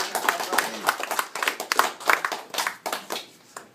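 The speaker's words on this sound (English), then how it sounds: "Another round of applause for Sam" Bursts of clapping from a group, loud and close, swelling and fading in waves over a few seconds, with voices mixed in.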